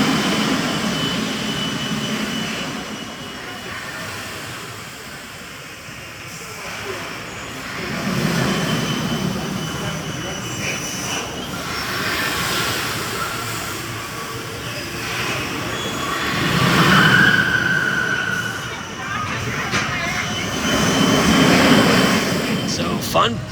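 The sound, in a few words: S&S Mine Blower roller coaster ride at Fun Spot Kissimmee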